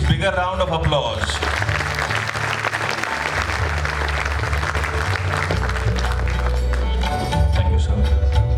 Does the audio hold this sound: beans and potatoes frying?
no